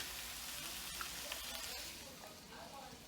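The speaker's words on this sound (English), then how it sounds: "here's my bacon that I'm gonna get." Bacon with no added antibiotics or hormones sizzles and crackles steadily on a skillet, a dense close frying hiss with a few sharper pops, running continuously with no voice over it.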